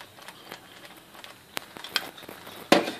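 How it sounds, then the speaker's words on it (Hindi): White sauce being stirred in a pan, with soft sizzling underneath and scattered clinks and scrapes of the utensil against the pan, close and fairly quiet with a sharper knock near the end. "और इसे मिक्स करेंगे हल्का सा।"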